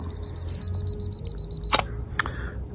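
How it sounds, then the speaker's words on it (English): A camera's 2-second self-timer beeps rapidly and evenly for a moment, then the shutter clicks sharply, followed by a second softer click. "I've got a 2-second timer on at the moment, just to alleviate the wobble as I press the shutter"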